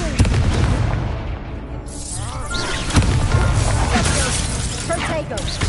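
Confringo fire spell blasts in the PS5 game Hogwarts Legacy: loud, dense bursts and booms with crackling debris, layered over busy combat effects and continuous game noise.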